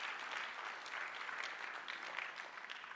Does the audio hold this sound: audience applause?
yes